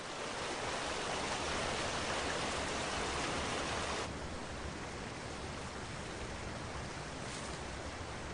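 Rising river water rushing steadily as a broad, constant hiss, fairly faint and continuous with no voices, easing slightly in loudness partway through.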